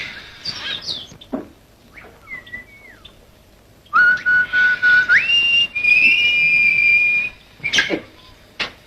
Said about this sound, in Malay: Burung mana pula yang bersiul?